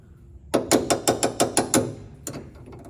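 Work on the front suspension of a 1961 Ford Ranchero to free a sway bar nut, a quick run of seven sharp metallic raps close by followed by a pause and one last hit, with no talking.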